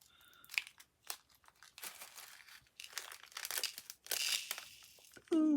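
A small plastic packet of pale blue shaker pieces being cut at one corner with scissors, with close crinkling and rustling of the packet, brief snips and a faint voice in the background.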